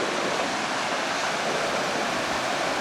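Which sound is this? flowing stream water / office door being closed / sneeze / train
flowing stream water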